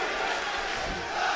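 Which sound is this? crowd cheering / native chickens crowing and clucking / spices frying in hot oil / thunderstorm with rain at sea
crowd cheering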